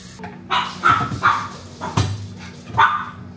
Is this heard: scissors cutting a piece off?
no